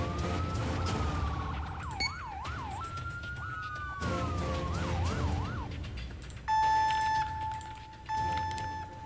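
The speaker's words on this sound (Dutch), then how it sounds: "Ik hoor politie." Police siren from the video game Emergency Response: Liberty County, wailing and yelping in rising and falling sweeps, then switching to a steady two-tone blare near the end, loud and close with no talk over it.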